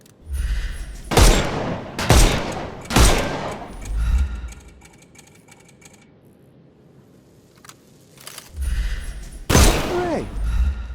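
Gunfire in the video game Sherlock Holmes Chapter One, loud shots blasting at enemies' armour: three sharp bursts in quick succession, then a quieter lull with faint ambience before two more heavy blasts near the end.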